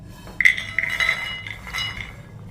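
Roasted seeds, dry-toasted in a hot kadai for two minutes, are tipped onto a plate, giving a few light, close clinks and brief rattles over a couple of seconds.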